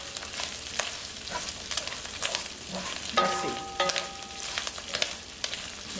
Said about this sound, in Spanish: voy a estar friendo el chicharrón